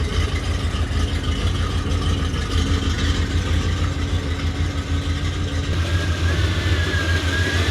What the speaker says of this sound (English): I could hear the valve train ticking away.